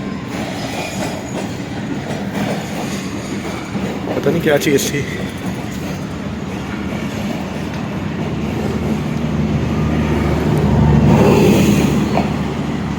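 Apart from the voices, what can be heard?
moving train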